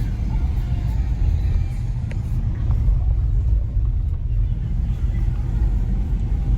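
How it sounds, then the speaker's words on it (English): Pickup trucks circling the exchange at the Fort Worth Stockyards make a continuous low rumble of slow-moving traffic, steady and fairly close, with no distinct single vehicle standing out. "it's a sea of pickup trucks"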